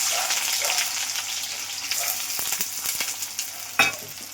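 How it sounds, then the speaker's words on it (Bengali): Onion hits hot oil in a heated wok, producing a continuous bright sizzle and hiss with a few soft stirring knocks near the end, close and without talk. "আর কড়াটা গরম, তেলটা গরম হয়ে গেছে, আমি এই যে পেঁয়াজটা ছেড়ে দিলাম।"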